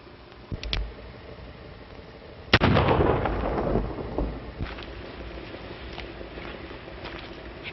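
Gunshots in a 1933 Western film: a couple of sharp cracks early on, then a loud blast with a long rumbling tail, followed by fainter scattered shots over a hissy old soundtrack.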